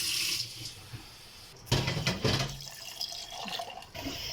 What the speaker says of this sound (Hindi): ये देखिए मैंने 1 गिलास पानी इसमें डाल लिया है।